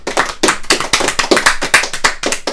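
Dense, continuous hand clapping from a small group, loud and close, with sharp overlapping claps forming steady applause that fills the whole stretch, with no voices.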